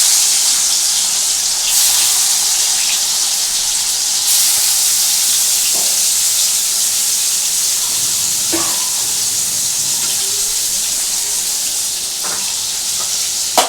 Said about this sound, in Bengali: দেখো বন্ধুরা আমি চিংড়ি মাছটা অল্প করে ভেজে তুলে রাখছি